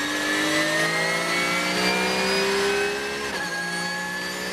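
A Renault RS01 race car screams past at Nogaro circuit with a loud, sustained high-revving engine note that sweeps steadily in pitch, then dips as it passes and carries on alone.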